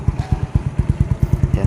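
Yamaha Mio Soul i125 scooter fitted with an Exos RX7 plug-and-play exhaust, idling close by with a deep, rapid, even chugging pulse.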